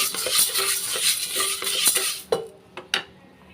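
Green gram being dry-roasted in a pan, with a steady close scraping and rattling of dry grains stirred against metal, then a few sharper isolated clinks as the stirring stops near the end.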